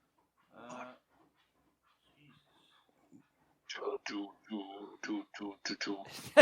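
A dog pants and whimpers in short bursts, fairly close and moderately loud, with people talking around it.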